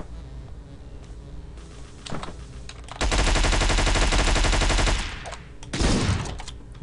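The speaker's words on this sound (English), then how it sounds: "we're going to fucking open fire." Sustained gunfire in Hotline Miami 2, a loud dense burst of rapid shots lasting about two seconds, preceded by a few scattered shots and followed by another short burst, over a steady game background.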